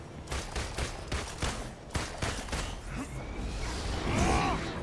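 Rapid gunfire in Marvel's Avengers, a dense run of loud shots and bursts with whooshing movement and crashes layered throughout, ending in a swelling wash of effects.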